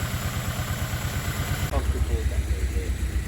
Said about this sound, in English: The fluids are filled and we got the motor running and fired up.